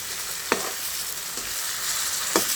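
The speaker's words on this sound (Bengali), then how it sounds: "এভাবে কিন্তু মাছটা আমি সুন্দর করে ভেজে নেব তেলটা কিন্তু সরিষার তেল" Fish frying in mustard oil for a cauliflower fish curry, a constant close sizzle broken by three quick scraping stirs of the spatula, no voices.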